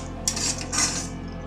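Chilli powder and slit green chillies being stirred in a pan, with two bursts of metal utensil scraping against the pan over a steady low background, close and moderately loud, no talking.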